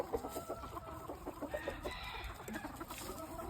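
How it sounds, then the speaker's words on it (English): A large backyard flock of chickens clucking on a winter day, busy overlapping clucks and soft calls close by, with a steady rhythmic chatter throughout. "This is probably the largest yard fowl flock I had."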